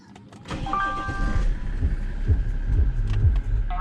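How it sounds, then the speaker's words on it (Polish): A BMW E60 engine cranks with a short whir and catches, then settles into a steady, throbbing idle heard up close inside the car. "odpalę sobie auto"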